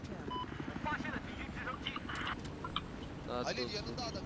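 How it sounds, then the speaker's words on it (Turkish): Helicopter flying in Battlefield 4, a steady rotor and engine drone with wind-like rush, joined by short in-game effects and a brief rising whine near the end, no voices. "şu an helikopter map'in dışında oynuyor"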